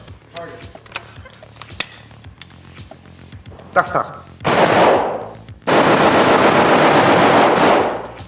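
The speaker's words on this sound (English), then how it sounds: "So I'm shooting the newest Russian assault rifle, apparently." Loud bursts of automatic fire from a new Russian Kalashnikov assault rifle at a shooting range, a long sustained volley followed by a second extended burst, after quieter stretches with a few isolated shots and background talk.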